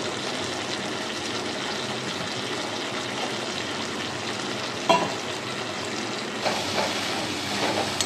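Spice paste frying in a pan with tomato sauce for a Bengali pabda fish curry, a steady close sizzle with faint stirring scrapes and a couple of brief clinks, no talk.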